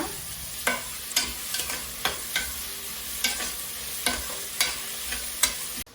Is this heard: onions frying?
yes